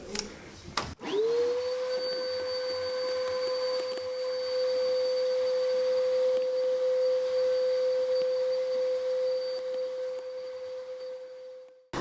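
A vacuum cleaner switches on with a click and runs at a steady, loud whine over a dusty hallway carpet, droning evenly for about ten seconds before cutting off.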